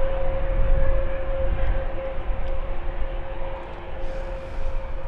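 A plane on a crosswind landing at Schiphol Airport's runway 18R, heard as a steady, broad engine roar with a sustained whine that holds evenly and swells slightly toward the end.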